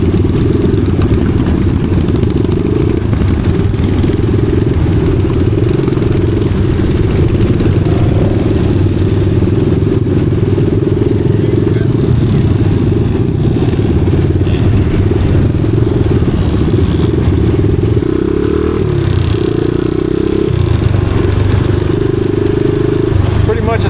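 Loud vintage motorcycle engines rumble and idle continuously nearby at a crowded motorcycle event at Mid-Ohio, a dense low growl with occasional revving and a faint murmur of voices.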